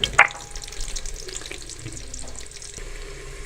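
Onions fry lightly in a pan for a black pepper beef karahi, giving a close, even sizzle with a brief louder splash near the start and soft stirring clatter, no voices.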